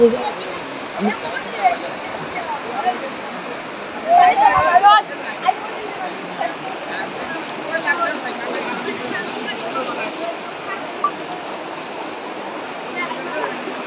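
Flood water rushes and flows around a house in Matijuri, Hailakandi, a constant broad wash with a brief splashy surge, under someone talking most of the time.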